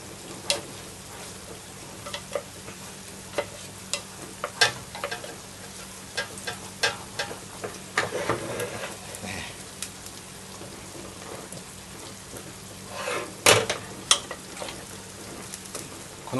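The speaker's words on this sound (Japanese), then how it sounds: "これを火にかけて マンゴーが溶けるまで最初はちょっと強めの火でやりますけど、途中から弱火でじっくり煮込んでいきます。" Mango chutney cooking in a pan over fairly high heat, a steady soft sizzle and bubbling with scattered pops and ticks, including a louder burst of clatter near the end, no talk.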